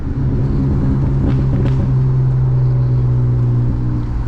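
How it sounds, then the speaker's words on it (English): BMW E36 328i with a manual gearbox and loud exhaust, heard from inside during a night drive, rumbling steadily as a downshift brings a brief rise in revs, then settling into a deep droning hum. "Perfect downshift right there."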